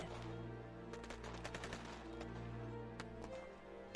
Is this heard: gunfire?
yes